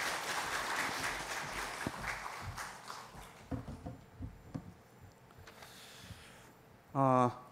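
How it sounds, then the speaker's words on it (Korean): Applause patters from a church congregation during a Sunday service, tapering into scattered claps, ending with a brief voice. "박수로 축복해 주시기 바랍니다."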